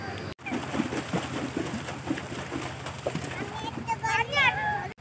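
Children splash and play in the water at Baisdhara Park, with light sloshing and spattering mixed with kids' chatter and nearby voices, and a few bird-like chirps near the end.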